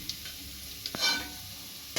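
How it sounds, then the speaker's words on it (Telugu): Potato pieces frying in oil for a Bengali-style chicken curry give a soft, steady sizzle, broken by a few brief stirring scrapes and clinks against the pan. "కట్ చేసుకుని కొంచెం ఆయిల్లో ఫ్రై చేసి పక్కన తీసుకోవాలి."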